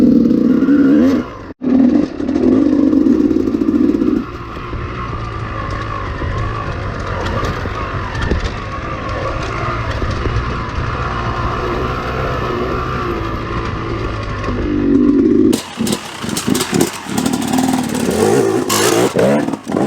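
Dirt motorcycle fitted with a flywheel weight, the engine loud and close, revving and lugging in uneven surges over rough ground, with throttle blips toward the end.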